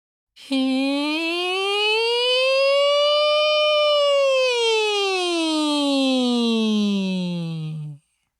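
A single voice imitates an ambulance siren on a thin 'hee' sound, one continuous wail gliding up from low to high and back down, steady in volume for about eight seconds.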